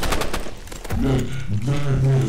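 Rapid gunfire bursts in a video game, a quick cluster of sharp shots at the start, followed by a tonal hum and a voice speaking over the game sound.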